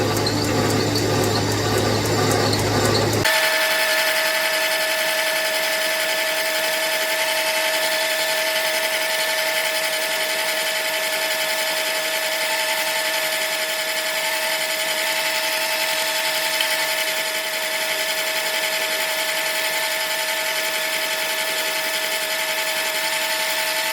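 Machining a Ferguson TE20 tractor part, drilling the centre out to 17mm: a brief rougher cutting start, then a long, steady, close mechanical whine with a sustained tone throughout.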